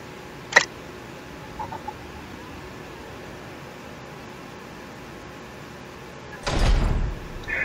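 A door opening in the video game Resident Evil 4, heard as a short sharp click followed by a louder, rough sliding rumble near the end, against a quiet hum.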